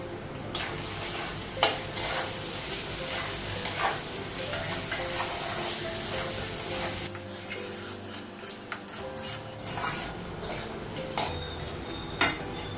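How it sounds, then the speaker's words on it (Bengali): Spices with ginger paste, salt and turmeric sizzle softly in a hot pan while a utensil scrapes and taps against it now and then, close and fairly quiet. "ভাজা হয়ে গেছে মশলাটা।"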